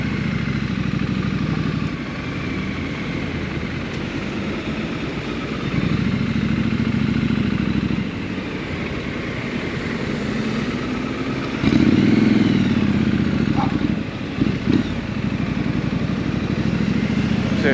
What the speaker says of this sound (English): Few blips of the throttles there, make your presence known.